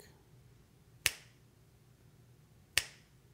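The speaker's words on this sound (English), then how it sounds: "make sure that the snap of the finger seems to correspond with the snap that's on the audio file" Two crisp finger snaps, spaced about two seconds apart, are made to sync audio and video. Each is a sharp, close click against a quiet room hush.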